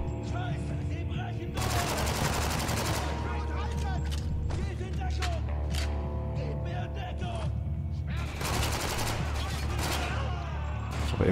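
Gunfire from the player's weapon in the shooter Spec Ops The Line, with sustained rapid bursts of shots over continuous combat noise and game music, heaviest in two long volleys.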